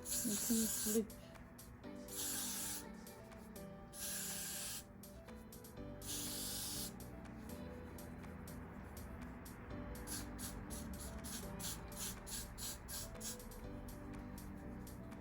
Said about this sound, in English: Grab this and then spray it.